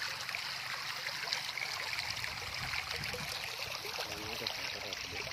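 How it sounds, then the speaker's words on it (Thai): Water rushes strongly out of a large pipe into a rice field during a storm, making a continuous dense gushing. It stays steady and fairly close throughout, with a little splashing and no speech. "ปล่อยให้น้ำไหลลงไปค่ะน้ำไหลแรงมากค่ะ"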